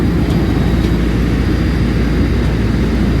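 A steady, loud airplane engine roars as passengers board, a dense low rumble with a constant broadband hiss and no break in the sound.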